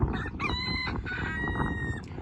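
A rooster crows close by with a drawn-out, harmonic cock-a-doodle-doo. Chickens cluck and stir in the farmyard behind it.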